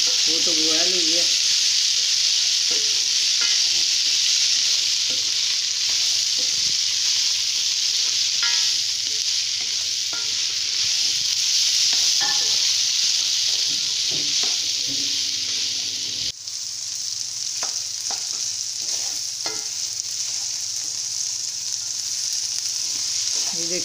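Tomatoes fry in a pan of vegetables for chicken macaroni, giving a constant loud sizzle with repeated scraping and stirring knocks from a spoon throughout.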